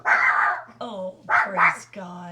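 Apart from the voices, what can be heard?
dog barking at a delivery person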